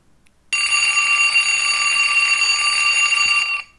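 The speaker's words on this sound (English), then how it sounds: "Now is going to alarm." An alarm clock built as a vanilla JavaScript web app rings in one loud, steady electronic beeping tone that starts suddenly and holds for about three seconds before cutting off, with no talk over it.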